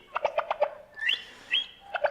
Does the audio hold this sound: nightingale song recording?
yes